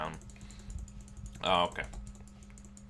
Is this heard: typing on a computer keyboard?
yes